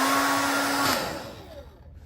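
A heat gun blows steadily on an iPhone XR screen during a repair: a close, loud whooshing hum that holds, then winds down and fades toward the end.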